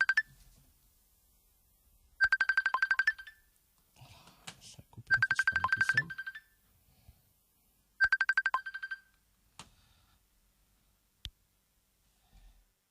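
A telephone rings in repeated electronic bursts during a live French radio call, several separate trills spaced seconds apart, with faint breathing and brief voice sounds between them.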